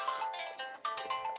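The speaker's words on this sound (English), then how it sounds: "My phone's ringing." A mobile phone ringtone chimes in short repeating electronic bursts, fairly faint and alone for a moment during a math lecture.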